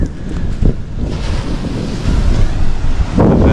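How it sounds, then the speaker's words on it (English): Ocean waves break and wash steadily at Arugam Bay, Sri Lanka, loud and close, with heavy wind buffeting the microphone throughout. "the waves here is amazing"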